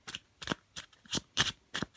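Petit Lenormand cards handled and drawn from the deck, six quick crisp riffling bursts at an even rhythm, close and clear with no voice over them.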